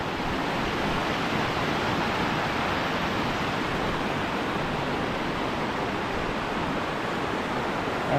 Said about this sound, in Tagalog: nakita naman natin itong Gabog-Gabog Falls